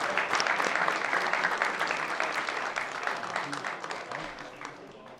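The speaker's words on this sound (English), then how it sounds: "Let's give them a big round of applause." Steady applause from a crowd, dense clapping sustained throughout and tapering slightly toward the end, with faint voices mixed in.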